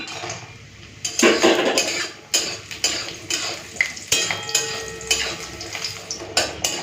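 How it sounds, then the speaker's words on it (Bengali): Lentil boris frying in hot mustard oil in a kadai, with repeated clinks and scrapes of a spoon against the pan and a soft sizzle underneath, close by. "এই যে কড়াইতে সর্ষে তেলটা দিয়ে গরম করে নিয়েছি প্রথমে বড়িগুলো ভেজে নেব"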